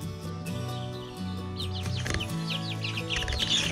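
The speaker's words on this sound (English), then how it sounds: "are our first chickens that we hatched from eggs using our incubator." Young incubator-hatched chickens cluck and peep in quick, scattered calls over a steady low background hum, close by and moderately loud.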